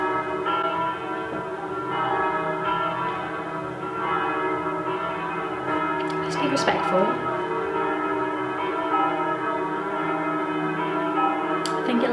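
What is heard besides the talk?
church bells ringing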